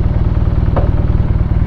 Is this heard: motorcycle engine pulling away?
yes